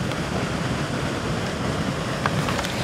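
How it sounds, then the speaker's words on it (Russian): A waterfall on the shore of the Krasnoyarsk Reservoir gives a constant broadband rushing roar, steady and fairly close, mixed with wind buffeting the microphone. "За моей спиной хороший знатный такой водопад."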